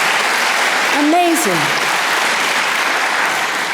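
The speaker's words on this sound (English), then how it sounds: "You should applaud California, our great state, right now for that." Audience applause at a lecture hall event, a dense, steady wash of clapping that fills the whole stretch, with a brief spoken exclamation over it.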